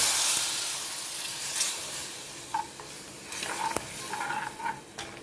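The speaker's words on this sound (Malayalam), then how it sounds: "ഇനി നമുക്ക് നേരത്തെ എടുത്തു വെച്ചിരുന്ന കുടംപുളി വെള്ളത്തോടു കൂടി ഇടാം" Kudampuli (garcinia) water poured into a hot pan of Kerala seer fish curry gives a steady sizzle and hiss, with a few brief stirring scrapes and clinks partway through.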